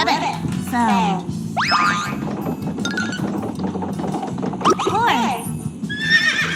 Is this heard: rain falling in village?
no